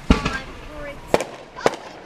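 Fireworks crackle and boom in a series of sharp explosions, with one at the start and more at irregular intervals, set outdoors in Vallejo over a steady background hiss.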